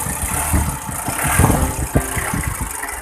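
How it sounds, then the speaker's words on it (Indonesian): A Mitsubishi L300 4D56 diesel engine idles steadily up close after servicing, a low, even chugging rumble with a slight rhythmic knock and no voices. "Ini suara mesin sudah enak."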